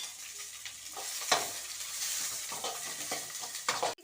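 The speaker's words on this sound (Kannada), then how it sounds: "ಈ ಥರ ನೀವು ವೆಜಿಟೇಬಲ್ಸ್ನ ಹಾಕಬೇಕು." Vegetables fry in hot oil in a pan for fried rice, a close, steady sizzle with clinks and scraping stirs running under it, ending in a sharp clatter.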